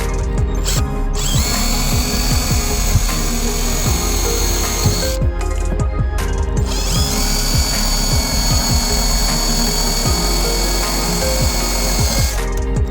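An electric drill bores holes in a 29er sailing dinghy hull for the beam, whirring loudly and close in repeated bursts with brief pauses between them, no voices.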